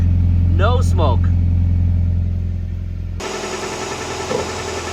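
A 2001 Honda Prelude's freshly installed H22 VTEC engine idles steadily with a deep low hum and vibration, while a person talks over it early on.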